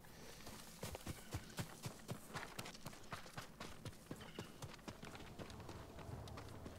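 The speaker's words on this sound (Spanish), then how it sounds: "Está el caballo" Horse hooves in Ghost of Tsushima, a quiet, steady clip-clop of a horse moving at a brisk gait with evenly spaced hoof strikes over faint background ambience.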